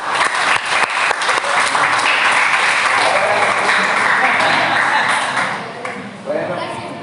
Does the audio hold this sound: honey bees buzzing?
no